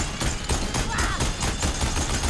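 Sustained rapid gunfire in Horizon Forbidden West, a steady stream of overlapping shots at constant loudness, with a brief voice cutting in midway.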